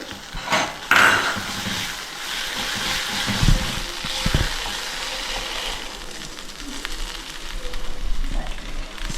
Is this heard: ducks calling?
no